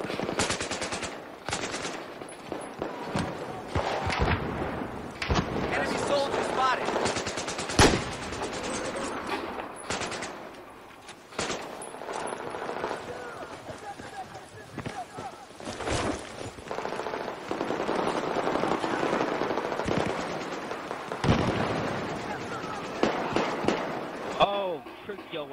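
Gunfire in Battlefield 4 squad deathmatch, with repeated bursts of automatic fire and single shots, some loud and close and others farther off, under frequent talking.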